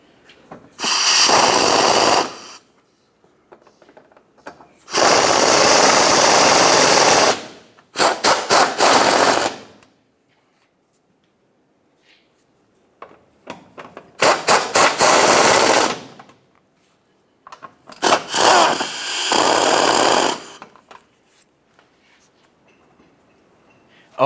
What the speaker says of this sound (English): let's continue on by tightening each one of the mounting bolts